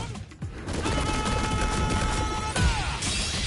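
Dee Jay's super art in the fighting game Street Fighter 6 lands as a rapid burst of impacts and crashing hits with tonal flourishes, loud and dense for a few seconds, ending in a heavy thump.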